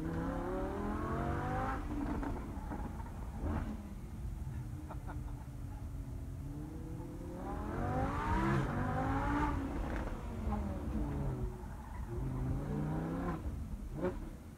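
A Lamborghini accelerating hard at a Gran Turismo Sport launch event, its engine climbing through rising revs in repeated surges with gear changes, loud and close from inside the car.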